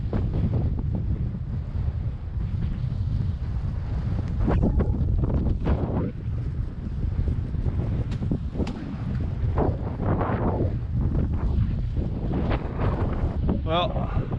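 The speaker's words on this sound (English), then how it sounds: "Some heavy gusts of wind." Heavy gusts of wind buffet the microphone with steady loud roaring and rumbling throughout, broken by brief louder surges, outdoors on a plot with T-posts and drip lines.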